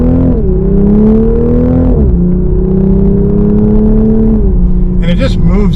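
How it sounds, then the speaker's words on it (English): A Toyota GR Supra 3.0 accelerates hard with a loud, close exhaust note, rising through two gear pulls with a brief dip at the shift, then settling before the engine note falls away at the end. "And that exhaust note sounds great."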